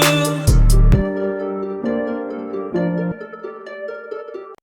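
A bright synth plays a sequence of stepped, ringing notes over a low bass tone, clear and upfront with no voices.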